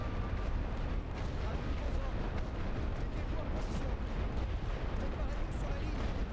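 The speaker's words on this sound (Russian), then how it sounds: "А вон и вражеская артиллерия. Я даже могу туда дотянуться, чтобы немножко ее подавить." Artillery in the World War I game The Great War: Western Front keeps up a dense, continuous rumble of distant booms and crackling bursts, with faint talk underneath.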